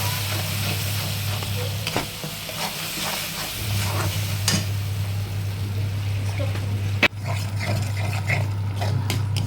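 Ground poppy seed spice paste for potol posto sizzles steadily in a hot pan, a constant frying hiss broken by scrapes and clinks of a spatula stirring.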